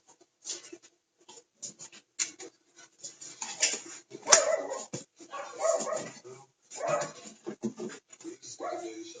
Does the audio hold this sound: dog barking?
yes